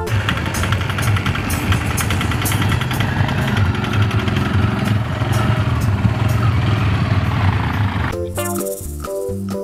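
A bentor motorized pedicab engine runs steadily close by with a rough, rattling drone for about eight seconds before the sound cuts to a different, choppier tone near the end.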